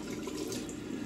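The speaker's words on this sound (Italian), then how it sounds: "quindi sciacquo anche il pennello un attimo per dargli un po' d'acqua" Tap water runs steadily into a sink while a shaving brush is rinsed under it, a soft continuous splashing heard close up with no voices.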